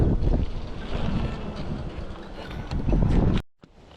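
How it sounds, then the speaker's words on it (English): Strong wind buffets the microphone during a ride on a self-built e-bike with a 1500-watt rear direct hub drive kit. A loud, continuous roar cuts off abruptly near the end. "the wind's blowing like crazy"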